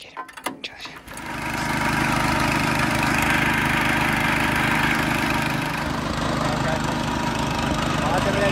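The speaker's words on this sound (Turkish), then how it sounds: "Ben de şimdi pat patı çalıştıracağım." A pat-pat motorized farm cart engine is started in a village and settles into a loud, steady running drone close by, with a few clattering knocks at the start before the engine catches.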